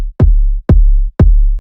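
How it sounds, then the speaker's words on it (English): Four-step kick drum pattern: three evenly spaced, punchy electronic kicks with deep booming tails, loud and dry with nothing else playing. "with your kick, all you want to do is right click and press 4-step, and it's gonna make a pattern like this"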